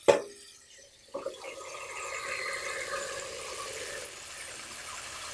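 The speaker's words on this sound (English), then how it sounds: "We're going to run some cold water on it." Cold tap water runs into a pot of boiled ackee and salt fish, starting with a sharp clatter and a splash before settling into a soft, steady stream.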